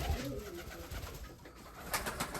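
Pigeons coo softly in a loft with doves kept alongside rabbits, a few low rolling calls early on, then scattered bird sounds and fluttering under a quiet background.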